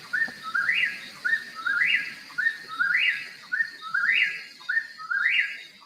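Whippoorwill calling outdoors, a clear repeated three-part whistled song, roughly one phrase per second, each rising and falling in a sweeping arc, fairly near and loud against a quiet background with faint other bird sounds.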